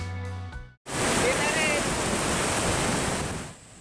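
Water from the full Bhojapur dam surges down the Mhalungi riverbed in a loud, continuous rushing roar. A brief musical tone plays first, then a short silence, and the roar cuts in abruptly and carries on to the end.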